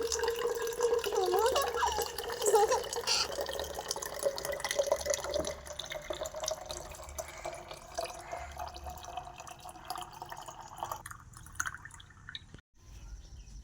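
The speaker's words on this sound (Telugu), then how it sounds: "వాటర్ బాటిల్లో నీళ్ళు పోసేసా" Water pours into a water bottle, starting as a steady gurgling stream that thins to patchy trickles and drips before stopping, heard up close in a home.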